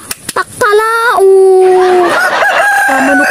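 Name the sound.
person imitating a rooster crowing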